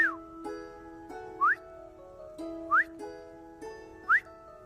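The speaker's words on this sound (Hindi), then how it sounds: "आपकी सीटी नहीं, कुकर की।" A pressure cooker whistle gives four short, rising whistles at regular intervals, each standing out above a sustained, tonal musical background.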